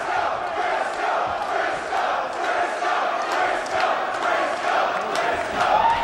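A wrestling crowd roars steadily at a live match, a dense sustained wall of cheering and shouting that stays loud and unbroken throughout.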